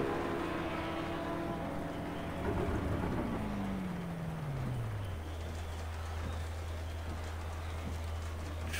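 Steady rain hisses in a racing simulator game at Laguna Seca, a continuous moderate wash with a low engine tone sliding down and settling beneath it; no talking.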